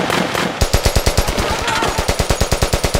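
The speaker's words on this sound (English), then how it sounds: "the officers probably didn't get hit in that initial volley from his AK style pistol" Rapid volley of gunfire from an AK-style pistol, a fast rhythmic string of sharp, loud shots close by, repeating evenly for a couple of seconds without any voices.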